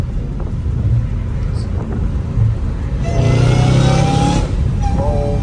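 A Dodge Hellcat Redeye with catless exhaust pipes accelerates hard, engine note climbing into a loud, rising roar before backing off, with a voice talking over it.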